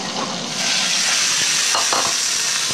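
Garlic butter sizzles steadily in a hot pan, a loud, constant hissing fry that swells slightly partway through, with a few faint clinks and no talking.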